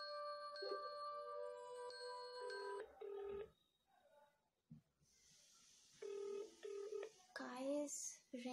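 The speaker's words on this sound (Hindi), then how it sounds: "सो मैंने डायल कर दिया।" Phone dialing and call tones while ringing a supposedly haunted number late at night, a sequence of steady electronic beeps and tones, some short and stacked, with brief gaps and a voice speaking toward the end.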